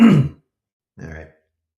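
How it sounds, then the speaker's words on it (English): Two short, gruff throat-clearing noises close to the mic, a louder one followed after a brief pause by a softer one, with no talking. "Clear my throat."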